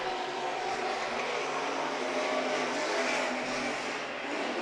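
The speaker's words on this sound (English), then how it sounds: "these engines are way louder as Brad, Trevor and Ben round out our top 3" Promod race cars racing on a dirt speedway at Kalgoorlie, a loud continuous roar of several engines blending into a broad, slightly wavering drone, heard from a distance with no talk.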